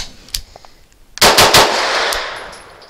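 Gunfire from a Grand Power Stribog SP9 A3 pistol-caliber carbine loaded with Winchester Active Duty ammunition: a faint early pop, then a loud close burst of about four rapid shots with a long ringing decay.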